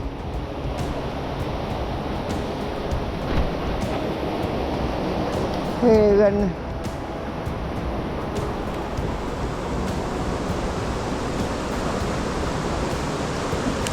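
A jungle river upstream in the Jelebu interior rises suddenly and rushes past, a constant broadband roar of flowing water close by, with a brief voice calling out over it midway.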